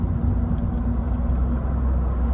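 A 1997 Acura CL cruising on the freeway, heard from inside as a steady loud low road and engine rumble with tire drone, no talk.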